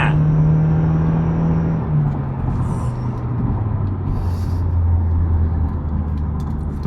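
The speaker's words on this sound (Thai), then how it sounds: "ไอเสียงเทอร์โบเนี่ย ดังมากเพราะว่าเราใส่เป็นแคทเลสดาวไพป์นะครับ" BMW F30 320i with a turbocharged N20 engine and catless downpipe, heard from inside the cabin as a steady loud engine drone with a slowly falling pitch, continuous with no talking.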